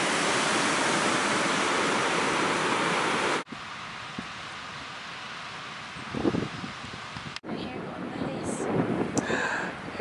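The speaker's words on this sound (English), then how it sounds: "So this is the ocean." Ocean waves on a beach at Fort Bragg: a steady broad roar of surf, loud at first, then softer wash with wind buffeting the microphone and faint voices in the background.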